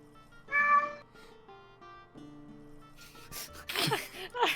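A cat meows once, clear and close, followed by soft rustling and breathy noises.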